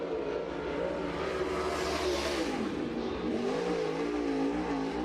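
A super late model race car engine drones loud and steady through a time-trial lap at Cherokee Speedway in Gaffney, South Carolina, its pitch rising and falling as it works the track, with no talk over it.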